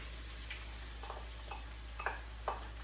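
Onions cook in a pan for a Cuban black bean sofrito, giving a faint, steady sizzle with a few soft clicks and stirring scrapes at irregular moments.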